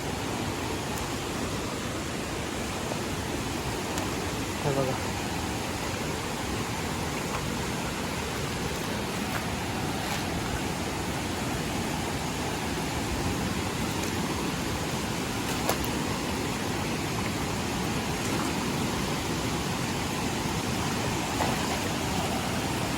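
A fast-flowing river in flood: a steady, broad rushing roar of water, continuous and fairly close, with no pauses or voices.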